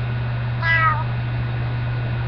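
A single short meow rises and falls once over a constant low electrical hum, with no other sounds.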